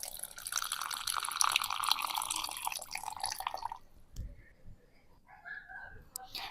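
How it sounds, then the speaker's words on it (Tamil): Water trickles and drips little by little into batter for Gobi Manchurian (cauliflower), in a steady pour for several seconds that stops into quieter kitchen sounds; a person speaks over it. "மிக்ஸ் பண்ணதுக்கப்புறமா தண்ணியை கொஞ்சம் கொஞ்சமாக ஆட் பண்ணிக்கோங்க"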